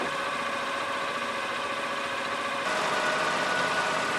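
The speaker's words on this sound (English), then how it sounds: "start the engine, set the main shift lever at neutral and the super shift lever to low," A rice transplanter's engine idles steadily close by, an even mechanical hum that grows a little louder partway through and carries no voices.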